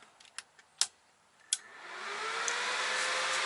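Tesla 295 welding inverter switched on: a few sharp clicks, then its cooling fan spins up into a steady, loud whooshing hum that holds to the end, close by with no talk.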